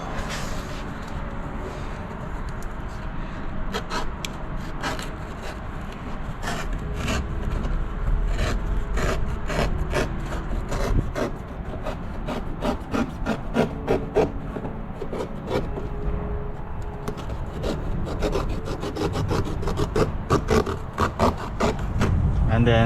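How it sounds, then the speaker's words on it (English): Repeated scraping and rasping strokes of a cutter blade cutting through plastic on a Toyota RAV4, close up, in irregular bursts with rubbing sounds between. "So next I'm gonna cut this plastic around here."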